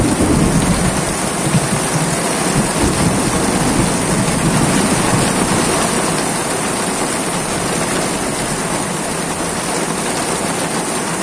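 Heavy rain pours down in a steady, loud, dense hiss that does not let up at any point.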